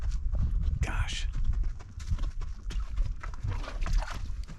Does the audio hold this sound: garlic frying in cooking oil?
no